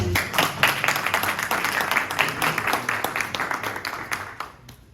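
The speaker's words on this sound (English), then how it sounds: "Okay, please give him a warm applause." An audience at a Korean peninsula peace forum hosted in Washington, D.C. applauds a Democratic congressman from California, a full burst of clapping that gradually thins and fades out near the end.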